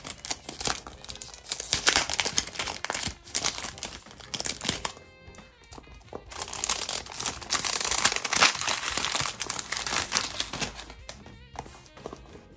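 Miss Dior perfume box being opened, with its paper packaging and embossed silver-lettered sticker crinkling and tearing in loud, dense bursts that pause briefly around the middle before resuming.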